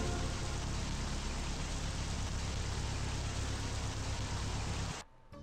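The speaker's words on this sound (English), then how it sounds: "I like the rain effect" Steady hiss of heavy rain from the Super Woden GP racing game on PS4, a dense, even wash of downpour that stays constant, then cuts out abruptly near the end to leave a quieter background.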